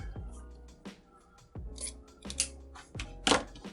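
Scissors snip through ribbon for a Christmas wreath, several quick close cuts in an irregular rhythm with sharp, bright slicing strokes and no talk.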